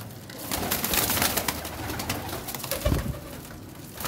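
Flying and breeder pigeons in Faisalabad coo softly and repeatedly, with low throaty calls over a busy background of rustling and shuffling.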